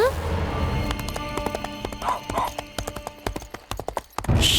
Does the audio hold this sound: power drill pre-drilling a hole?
no